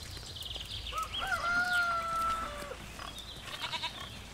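A sheep bleats once in the video game Force of Nature, a drawn-out wavering cry of about two seconds rising over quiet game background sound, with faint softer noises trailing after it.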